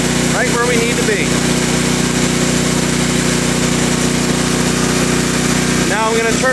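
Generac 7000EXL tri-fuel generator engine running steadily at close range, a loud, constant drone with a voice speaking over it at the start and again near the end.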